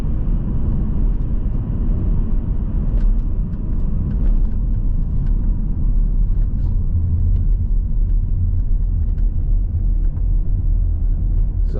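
Steady low engine drone and road rumble inside a 2015 Volvo V70 2.0 D4 diesel estate with Geartronic automatic gearbox, continuous and fairly loud throughout, with faint occasional clicks and no talking.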